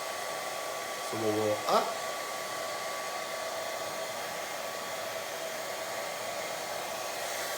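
A hair dryer blows with a steady whooshing hum throughout while beard oil is worked into a beard with a brush, and a person speaks briefly near the start.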